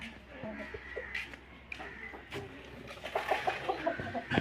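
A rooster clucks close by, quietly at first, then in a quick rhythmic run of clucks, with faint talk in the background.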